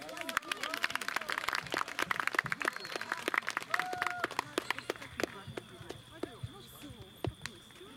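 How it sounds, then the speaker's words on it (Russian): A concert audience in a hall at a bard song festival claps loudly, with many sharp individual claps densely layered at first and gradually thinning out, while voices speak over the applause. "посмотрите, как они аплодируют прям."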